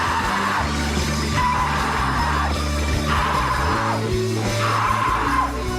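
A singer screams vocals in a live performance of a song, rising in loud, sustained yells over driving amplified band music.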